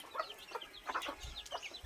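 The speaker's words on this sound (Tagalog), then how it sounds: "Ayan, meron tayong mga manok." Chickens clucking close by, a run of short, choppy calls repeating over a couple of seconds with no talking.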